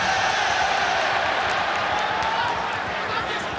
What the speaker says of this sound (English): Crowd getting behind Tonga here with Lutui,